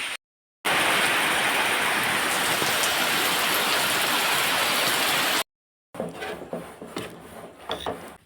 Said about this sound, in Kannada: ಮಳೆ ನೋಡಿ ಅಂತೆ ಬಿಸಿಲು ಸಹ ಉಂಟು ಮಳೆ ಸಹ ಬರ್ತಾ ಉಂಟು